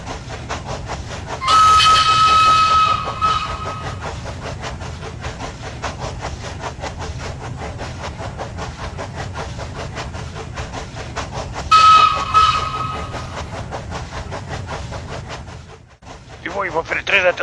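A train rolls slowly while running in reverse on double track, with a steady rumble and rattle throughout. Two loud, sharp whistle blasts sound, one early and one later, and the noise dies away near the end.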